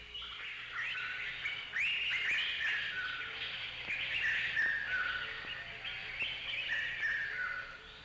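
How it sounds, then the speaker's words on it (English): Several birds chirp and tweet in bright overlapping calls, steady and close, with no talking over them. "The birds."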